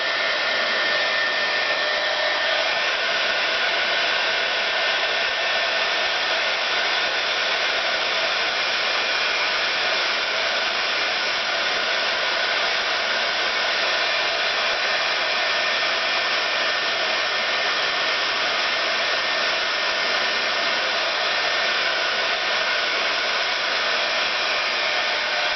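Heat tool blowing on embossing powder over die cuts, a steady, loud, unbroken hot-air roar lasting the whole stretch with no pauses or voices.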